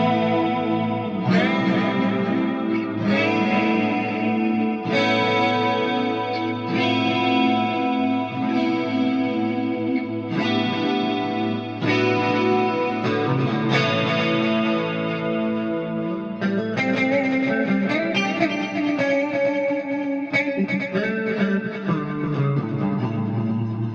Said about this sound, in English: I have a dotted eighth. So I have a different delay going on here. And then the reverb that I used was the London plate again